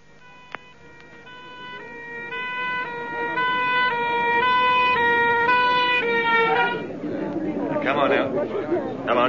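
An ambulance siren wails in a steady two-tone pattern, rising loud over a busy street scene in a radio drama, then gives way to crowd noise and traffic bustle near the end.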